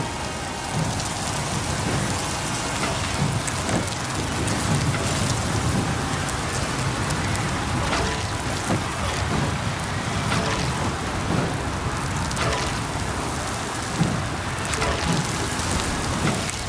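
A rain and thunder storm in the Riders Republic game: dense, steady rainfall hisses throughout, with occasional low rumbles of thunder rolling underneath at a fairly loud, even level.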